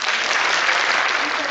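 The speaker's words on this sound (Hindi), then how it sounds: "मैं चाहूंगी सभी साथियों के लिए जोरदार तालियां" Audience in a hall at Shaheed Smarak, Jabalpur, applauding at an inauguration event: dense, loud, even clapping fills the whole moment with no pauses and no talk.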